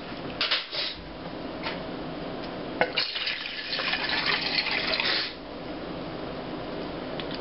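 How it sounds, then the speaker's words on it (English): A cup of water poured into a camping stove, with splashing and trickling liquid over a few seconds, followed by a steady low background hiss. "1 cup of water, we'll put that right into the stove."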